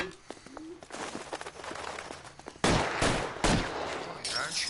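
A burst of gunfire aimed at a man, several loud close shots and a rattling volley that cut in sharply over a noisy background.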